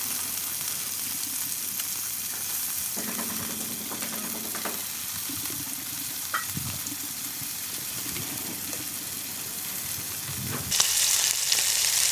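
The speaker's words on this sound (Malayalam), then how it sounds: "മസാല തേച്ച് വെച്ചിരിക്കുന്ന മീനെ പൊരിക്കാൻ എടുത്തോണ്ട് പോവാവേ." Masala-coated fish fries in coconut oil in a pan with a steady, close hiss and sizzle, broken by a few clicks and bumps, and the noise grows louder and brighter near the end.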